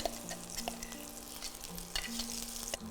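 Ingredients for a brinjal sothi with tamarind sautéing in oil in a pan, a close, continuous frying sizzle with scattered stirring clicks and a faint tonal hum running underneath.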